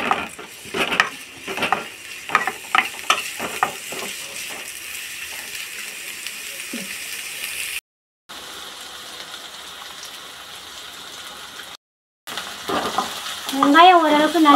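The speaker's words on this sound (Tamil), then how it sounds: "வெங்காயத்தை சேர்த்துட்டு நல்லா வதக்கிக்கோங்க." Sliced onions stirred and frying in a pan for a spicy egg gravy, a steady sizzle with scraping stir strokes near the start, then a brief cut and a later burst of clinks and stirring.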